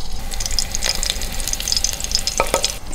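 Peeled garlic cloves fry in a pan on a catamaran galley while preparing Tuscan cacciucco, giving a steady crackling sizzle with light clinks and a couple of sharper pops near the end.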